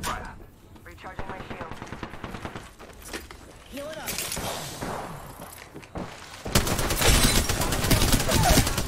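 Bursts of automatic gunfire and rapid shots in the shooter game Horizon, growing louder and denser toward the end, with a player talking over parts of the action.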